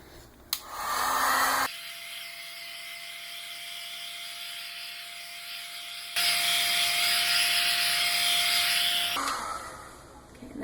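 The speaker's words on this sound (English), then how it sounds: "I have a heat gun that I'm going to use." A heat gun blows over freshly poured epoxy resin in a flow-art pour, its steady whirring hiss starting loud, dropping to a softer setting for several seconds, then surging louder again before cutting off.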